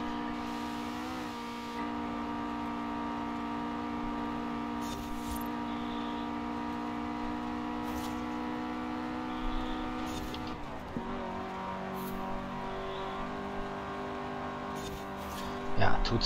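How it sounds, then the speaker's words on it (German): Engine of a 1998 Nissan Silvia S14 in a racing game: a steady, strained high-revving drone that drops sharply in pitch as it downshifts near the middle, with the engine note then climbing again while someone talks over it. "Ja, muss ich doch wieder runterschalten."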